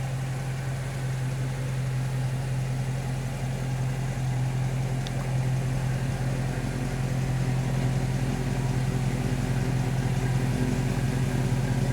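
A 1971 Dodge Coronet's engine runs with a steady low rumble and constant hum, moderately loud and unbroken, with no voices over it.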